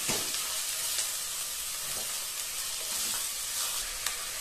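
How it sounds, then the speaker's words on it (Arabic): Chicken pieces and onions sizzle steadily in a hot pan for a molokhia dish, a constant frying hiss with occasional soft scrapes and clinks of a spoon stirring, no talking. "هنقلب الدجاج مع البصل لحد ما يتغير معانا لون الدجاج"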